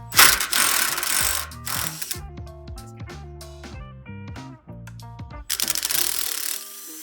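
A ratchet with a 12mm socket clicks in quick, uneven runs while loosening a bolt on a 2003 Honda Shadow VT750DCB motorcycle. Close, crisp metallic ticks sit between short bursts of louder handling noise at the start and end.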